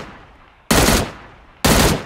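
Two loud bursts of video-game gunfire in PUBG Mobile, each a sharp broadband blast that starts suddenly and decays over almost a second, spaced about one second apart with no talk.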